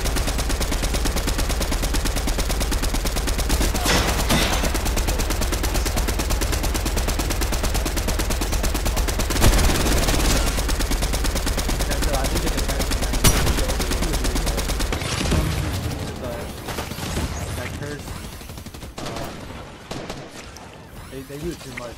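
Rapid, sustained minigun fire in Fortnite rattles on loudly for about fifteen seconds with a few sharper bursts, then thins into scattered game sounds; a voice talks over it.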